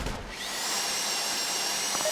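A drill whines steadily at high pitch during a GTA Online heist, starting up quickly and then holding a loud, continuous drone close up.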